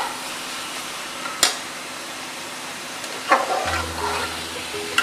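Prawns and onions sauté for biryani on an induction cooktop, a steady soft sizzle running throughout with a few sharp scraping clinks of a utensil and a low hum joining near the end.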